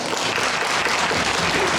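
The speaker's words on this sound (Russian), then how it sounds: "Ваши аплодисменты." Applause from a concert audience welcoming a folk choir onto the stage, a dense and even roar of clapping held at steady volume for a short stretch.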